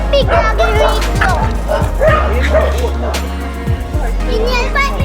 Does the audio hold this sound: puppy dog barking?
yes